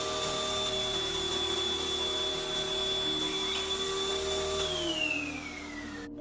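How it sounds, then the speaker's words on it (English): A vacuum cleaner runs with a steady droning whine in a house, picked up by a CCTV camera. The tone holds level at first, then its pitch slides downward near the end. "Tulad ng vacuum cleaner,"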